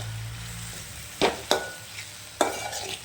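Coarse peanut powder being stirred into cooked garlic okra in a pan, with a soft sizzle beneath and three or four sharp scrapes and clinks of a spoon against the pan, close and without talk.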